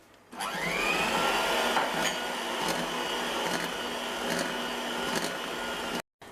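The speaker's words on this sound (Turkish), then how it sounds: "Şimdi tekrar hamurumu yavaşça güzelce güzel bir krem haline alana kadar kekimi karıştırıyorum" An electric mixer beats cake batter for a marbled sponge cake, whirring loud and steady at close range with a rising start, then cutting off abruptly near the end.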